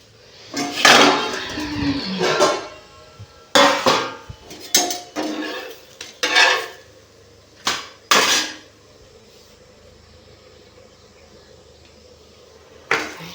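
Plates and dishes clatter in a home kitchen as food is served, a series of sharp, close clinks and knocks in irregular bursts, then quiet.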